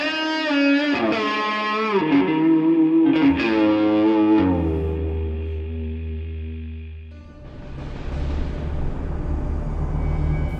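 A distorted lead guitar patch is played on a ROLI Seaboard MIDI controller. Bending, sliding notes sustain into a low held tone, then a roaring, noisy swell builds toward the end.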